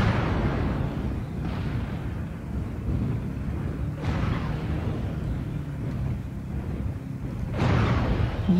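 Incoming missiles explode in MechWarrior Online on the Alpine Peaks map, with three heavy muffled blasts spaced a few seconds apart over a constant low rumble of mech movement.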